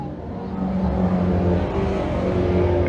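Dirt-track pro stock race cars roar around the Can-Am Speedway oval during an early lap. Their engines make a steady, loud, blended drone from several cars in the pack.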